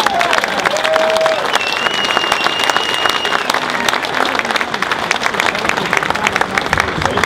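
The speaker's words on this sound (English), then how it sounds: "Big round of applause for DanDumaine." A large audience at a political gathering breaks into sustained applause, dense steady clapping with cheers and a few whistles running throughout, loud and close.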